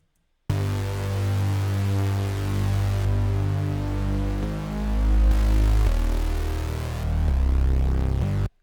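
An unequalized bass line in a beat rumbles under the loop, thick low sustained notes shifting pitch in steady steps, loud and continuous throughout, no voices.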